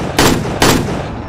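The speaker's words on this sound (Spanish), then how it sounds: "ya está dispuesto a matar y le dispara" Two sharp, loud gunshots about half a second apart ring out in a Tokyo Revengers anime fight scene, each with a short ringing decay over a steady background rumble.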